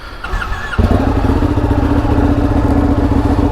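A Ducati Panigale motorcycle engine rumbles loud and close, a brief quieter moment giving way to a sustained deep idle-like drone at a steady rhythm.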